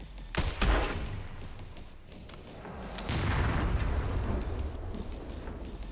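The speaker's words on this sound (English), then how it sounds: "I can shoot this guy through here." Gunfire in the video game Resident Evil 9, a loud shot near the start followed by a burst of rapid shots and a rumbling stretch of sustained firing, with no talk.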